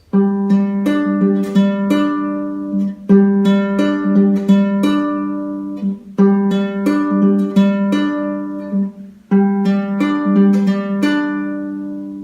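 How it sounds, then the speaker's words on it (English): A guitar chord from a song's intro picked note by note and left to ring, repeated four times in a steady rhythm, with short pauses between passes; clear, close and unaccompanied. "You're holding a chord and you're picking it."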